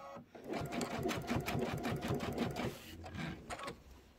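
A sewing machine stitches a quilt top in a fast, even run of rhythmic mechanical thumps lasting a couple of seconds, close and clear, then stops and a few faint handling sounds follow.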